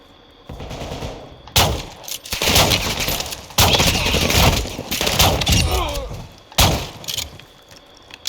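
A guard fires a gun at the player in a video game, with loud bursts of gunfire in several clustered volleys and heavy impacts, close and harsh, mixed with faint game noise.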